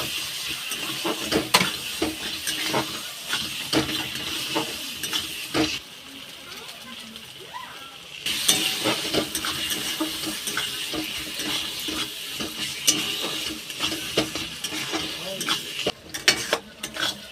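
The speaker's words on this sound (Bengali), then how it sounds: "এবার কালারটা ভালো আসার জন্য দিয়ে দেব কাশ্মীরি রেড চিলি পাউডার। ভালো করে কষিয়ে নেব।" Spices with Kashmiri red chili powder being sautéed in a pan, a steady sizzle and frying hiss with scraping stirring strokes, close and continuous throughout.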